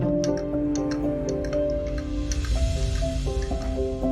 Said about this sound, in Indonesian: Sebelum diaduk, ini larutan terdapat endapan. Nah, kita aduk secara perlahan.